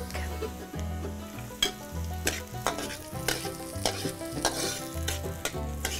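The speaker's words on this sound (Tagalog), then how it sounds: "Igigisa na po natin ang sibuyas" Onion and garlic sauté in a pan for tamales in Sariaya, Quezon: a steady, close sizzle broken by regular scraping and clattering stirs of a utensil.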